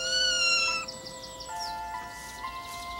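A kitten meows in a series of high, drawn-out cries, with a few faint chirping calls in the background.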